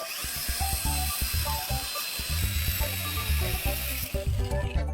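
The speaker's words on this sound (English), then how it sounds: "use an angle grinder to carefully cut along the blue line we just drew" An angle grinder cuts through a plastic handle block clamped in a vise, a loud close whine with harsh grinding and a rapid, juddering chatter that shifts as the cut goes on.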